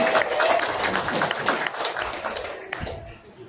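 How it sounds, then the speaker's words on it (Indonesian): Wedding guests applauding the bride for Ruben and Magdelina's ceremony, a burst of many hands clapping that thins and fades toward the end, moderately loud in a room. "Beri tepukan bagi pengantin"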